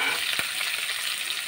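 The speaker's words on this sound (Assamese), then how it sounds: "এতিয়া ভাজি থাকিম যেতিয়ালৈকে ৰঙচুৱা নহয়" Pork, boiled first, sizzles steadily as it fries in a pan, a close, even crackle with one brief clunk early on and no talk.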